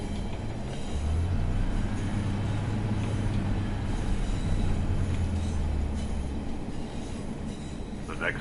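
A TFW Class 142 Pacer diesel railbus runs in the video game Train Sim World 6, giving a continuous rolling rumble with wheel and rail noise throughout, moderately loud and steady, while a voice talks faintly at times.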